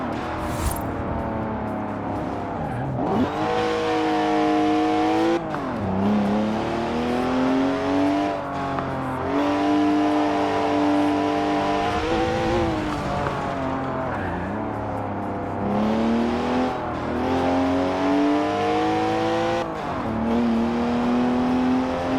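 BMW engine in Forza Horizon 4 revving hard through repeated gear changes, each pull rising in pitch then dropping at the shift, loud and close with no talk.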